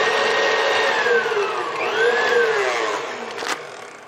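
A Mixmaster stand mixer whirs while beating softened cream cheese, a loud steady motor whine that rises and falls in pitch as the beaters work, alone and close.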